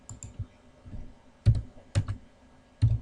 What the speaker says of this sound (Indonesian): Nah, ini CTRL ditekan, lalu angka 1